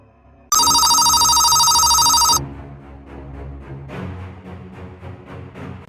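A phone rings on an outgoing call with a loud electronic trill held for about two seconds. A quieter stretch of clicks and faint knocking sounds follows.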